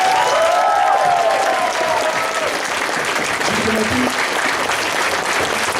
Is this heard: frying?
no